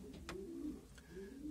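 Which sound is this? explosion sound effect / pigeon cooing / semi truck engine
pigeon cooing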